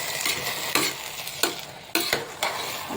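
A spoon stirs vegetable pulao in a pressure cooker over a bed of soft sizzling. Four sharp scraping strokes stand out against the metal, spaced roughly evenly, close up and with no talking.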